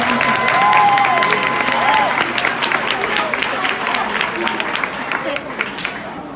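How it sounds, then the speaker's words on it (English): A school audience claps and cheers across a middle school celebration, loud and sustained, with whoops and shouts rising over the steady applause before it gradually thins. "let's clap it up for that."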